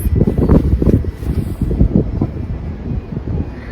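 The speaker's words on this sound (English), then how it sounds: "the wind is just a blowing and it is bitter" Strong, cold gusty wind around 40 degrees buffets the microphone outdoors in a garden in loud irregular blasts and rumbles, with no voices.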